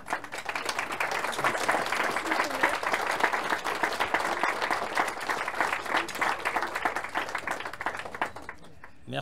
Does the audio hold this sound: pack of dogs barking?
no